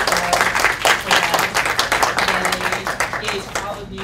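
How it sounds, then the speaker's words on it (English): A crowd at an annual open house claps in a lively burst of applause, fairly close and fading slightly toward the end, with a few voices mixed in. "So please, a round of applause."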